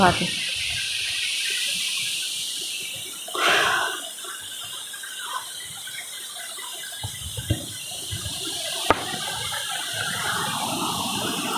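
A forest stream runs along a jungle path, its water flowing in a steady, close broadband rush that never lets up, with a few brief knocks and splashes breaking through now and then.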